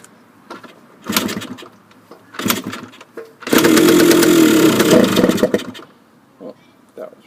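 A 1979 Yamaha DT125 two-stroke enduro is kicked over repeatedly: short sputtering bursts, then a few seconds of loud, rough engine running that dies away, close by.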